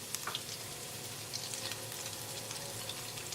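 Chopped garlic sizzles in hot oil in a skillet, a steady, faint broadband hiss with light crackles and pops throughout, no voices.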